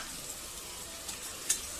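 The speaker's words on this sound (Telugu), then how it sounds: "ఇప్పుడు ఆయిల్ హీట్ అయ్యాక సన్నగా తరిమిన ఉల్లిపాయలను వేసుకోవాలి." Thinly sliced onions frying in hot oil for a mutton curry give a soft, continuous sizzle with faint crackles and one small pop, quiet and steady with no talking.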